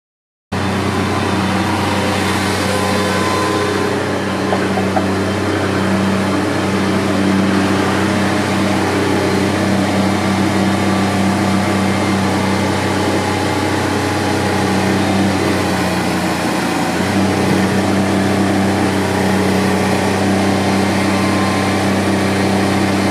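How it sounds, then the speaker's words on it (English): A Bobcat MT100 compact track loader runs with a steady, loud engine drone while it moves a dump trailer, and the pitch stays constant throughout with no talking. "I'm sure a lot of guys are probably wondering if the Bobcat can move the dump trailer"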